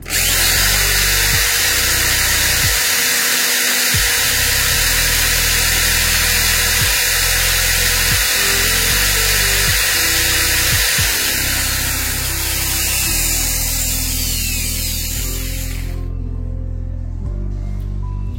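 An electric drill runs without load on a 1000 W portable power station with a LiFePO4 100 Ah battery, a loud continuous whine with brief speed changes and stops, ending abruptly.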